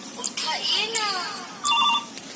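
A phone ringtone plays a melodic tune for a few seconds at close range, then a brief tonal burst sounds near the end, with voices in the background.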